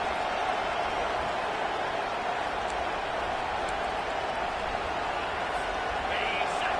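A home crowd at a college football game roars as the defense tries to get off the field on third down, a dense, constant wash of cheering throughout.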